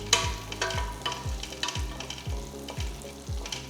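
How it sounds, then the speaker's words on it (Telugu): Garlic cloves, ginger pieces and a teaspoon of cumin seeds sizzle steadily in hot ghee, with a spoon scraping the pan about every half second in a regular stirring rhythm, close and moderately loud, with no talking. "ఇవన్నీ బాగా వేయించాలి."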